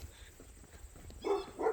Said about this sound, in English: Look at the little puppy dogs